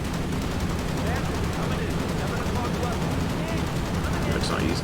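A B-17 tail gunner's machine gun in a bomber video game fires at attacking fighters, a continuous rapid rattle under a steady droning roar, heavy and close throughout, with a voice talking along.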